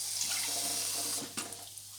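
Water pours steadily from a tap into flour for a sauce, a bright splashing rush that tapers off near the end, quiet and close.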